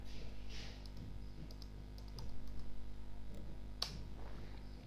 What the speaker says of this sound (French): je vais taper la commande fixboot.